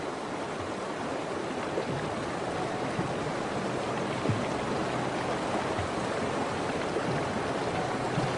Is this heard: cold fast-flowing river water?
yes